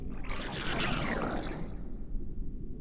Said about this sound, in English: snarling in water, like a snarly, gurgly sound